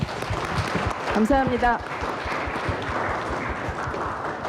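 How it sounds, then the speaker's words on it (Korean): A seminar audience at the National Assembly claps throughout, giving a steady patter of applause at moderate volume that continues while someone speaks briefly over it. "박수를 부탁드립니다"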